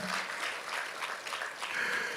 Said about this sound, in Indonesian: Kasih tepuk tangan buat kemuliaan Tuhan